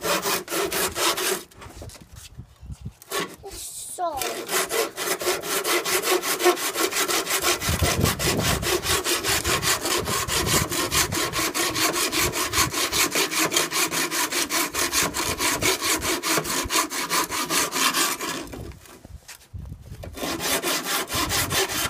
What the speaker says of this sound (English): Start sawing again, and the saw, I don't think it'll get in your face